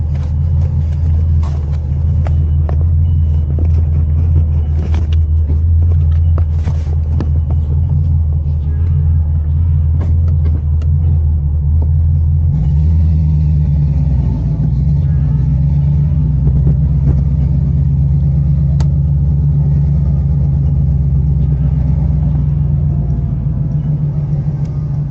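A 1987 box Chevy Caprice driving through New York gives a loud, continuous low engine rumble throughout, with voices talking over it in the cabin during the first half.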